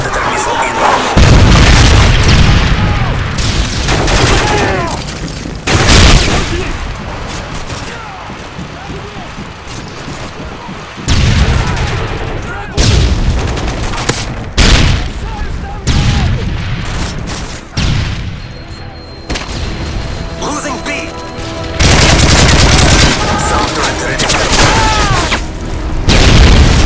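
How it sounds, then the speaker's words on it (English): Predator missile strikes in the video game Modern Warfare 3, heavy booming explosions and rattling gunfire in repeated loud bursts, with game voices heard over the chaotic battle noise. "Friendly Predator missile inbound."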